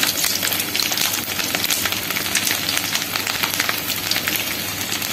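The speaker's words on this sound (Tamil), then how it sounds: "இப்போ கடுகு உளுந்தம் பருப்பு நல்லா பொரிஞ்சிருச்சுங்க." Dense, crackling sizzle of mustard seeds and urad dal frying in hot oil, steady and close, with no talking.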